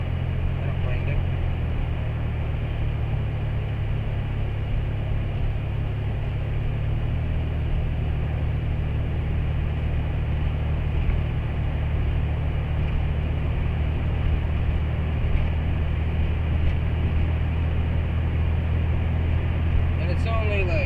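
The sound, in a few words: car driving, interior engine noise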